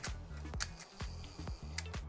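A Rolleicord twin-lens camera's shutter fires repeatedly during a speed test, giving sharp, close mechanical clicks at a few separated moments in a quiet room.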